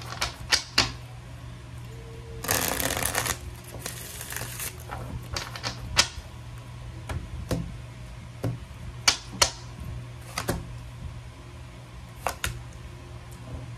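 Tarot cards are shuffled in quick riffling bursts with scattered sharp taps and flicks, fairly quiet and close, with no voices.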